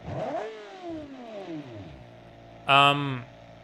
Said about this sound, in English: It's a flat-plane V8, as you can hear.